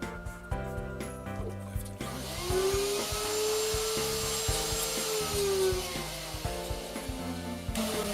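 Small CNC router cutting MDF in a school workshop, a steady high-pitched whine and rasping cut that runs continuously for several seconds in the middle, with clattering machine noise before and after.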